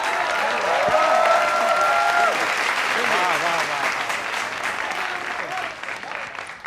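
Applause from a crowd at a political rally in Bengal, a dense burst of clapping that swells and then slowly fades over several seconds, with a voice briefly over it.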